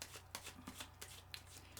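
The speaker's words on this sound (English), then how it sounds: "I'm just going to have another little shuffle." Tarot cards being shuffled by hand: a quick series of soft, papery riffling bursts, close and quiet, with no talk.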